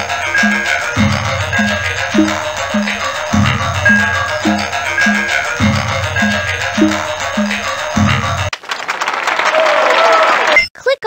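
Applause and clapping from a big audience in the 1996 PC educational game Interactive Math Journey, a steady loud crowd sound over looping game music, then a brief rustling swell near the end.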